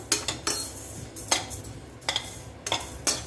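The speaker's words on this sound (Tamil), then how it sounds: "கருக விடாமல் பக்கத்தில் இருந்து இந்த அரிசி வறுக்கிறது தான்" Matta rice being dry roasted in a pan, a spoon stirring and scraping the metal in four or five sharp, bright bursts with quiet gaps between, close and alone.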